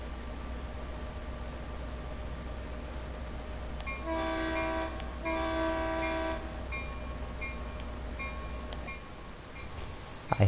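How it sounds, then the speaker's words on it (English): An F40PH locomotive in a train simulator game sounds two short tonal blasts over a steady engine rumble, the first lasting about a second and the second a little longer, with a gap between them. "I hate the bell."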